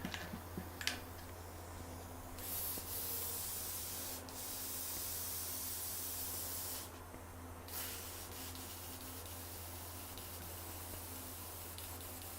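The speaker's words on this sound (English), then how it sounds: "Let's clean the airbrush." An airbrush spraying steadily while being cleaned out, a continuous close hiss with short brighter bursts, heard alone without talk.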